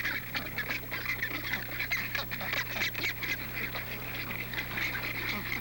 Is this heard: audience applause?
no